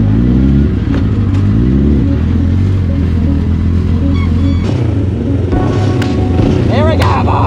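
A home-made dune buggy engine revs hard through its gears, loud and close, with rising pitch sweeps broken by gear changes and some clattering, ending in a final sharp rev.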